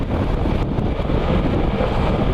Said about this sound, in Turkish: Şimdi ön camı yukarıya alınca boğazımda rüzgar patlamıyor. Kafamda patlıyor rüzgar.